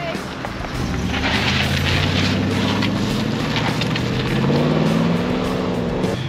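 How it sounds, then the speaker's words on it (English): A show truck pulls away from a car meet, its engine rumbling and rising in pitch as it accelerates off, with background chatter from people nearby. "Show truck's leaving now."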